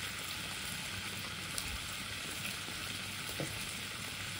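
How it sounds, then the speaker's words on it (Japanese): A hamburger steak patty sears in a hot pan over high heat, giving a steady, close, continuous sizzle with faint crackles and no talking. "焼き色をつけて、両面ね。 そして中火で、完全に火を通します。"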